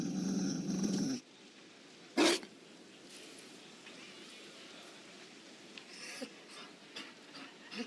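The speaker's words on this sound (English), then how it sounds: "You found a dog?" A Mabari war dog from the video game Dragon Age gives a short rough growl or huff near the start, then low breathy panting and faint rustling follow against a quiet background.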